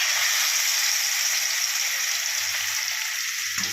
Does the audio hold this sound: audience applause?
no